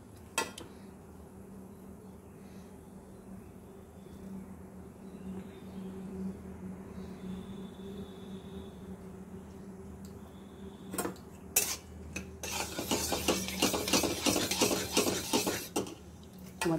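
Paneer frying in a pan and being stirred, with a low steady hum for most of the time and then a burst of scraping, clattering stirring near the end.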